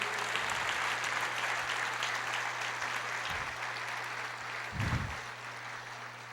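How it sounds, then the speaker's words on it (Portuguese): Congregation applauding during a church sermon, a steady wash of clapping throughout, with a low constant hum and a few brief thumps. "Você pode aplaudir o Senhor"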